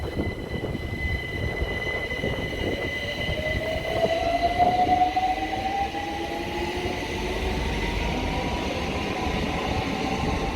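A London Overground train departs Kensington Olympia, its traction motor whine rising steadily in pitch over a continuous rumble of rolling wheels, with a faint squeal as it pulls away.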